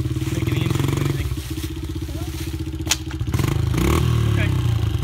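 A Honda CRF70 dirt bike rides uphill with a choppy, buzzing engine note that sags and then picks up again. A voice is heard in the background, and a short knock comes near the middle.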